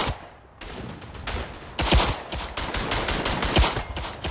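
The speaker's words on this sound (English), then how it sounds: "A 96 meter headshot with a pistol." Pistol fire in the World War I shooter Verdun on the Vosges map: a dense run of loud, sharp shots cracks in quick succession, with echoing bangs layered close together and no talk.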